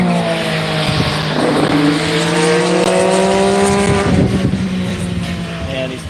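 An IndyCar race car screams past on the track during a test session, its engine note rising and then falling as it passes, loud and continuous, with a voice speaking faintly underneath.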